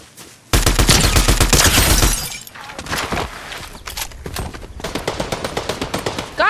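Rapid automatic gunfire in the Fortnite video game, a loud close burst of fast shots at first, then scattered bangs and crackling impacts with quicker bursts continuing, with no talking.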